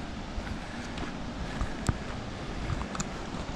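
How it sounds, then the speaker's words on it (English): The Swan River flows at Bells Rapids, a soft steady rushing wash in the background with a few faint knocks and brief ticks over it. "There's the river. You can hear it in the background,"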